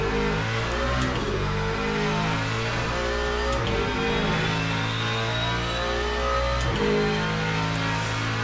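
Engine note from an IMSA-style LMGT3 sprint race car, likely a Ford Mustang GT3, droning steadily at high revs with layered harmonic tones, loud and continuous with no talk.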